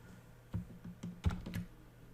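Light keystrokes on a computer keyboard while writing C# code, a handful of quiet, uneven taps heard up close with no voice.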